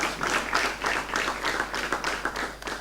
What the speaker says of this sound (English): A round of applause for them once again.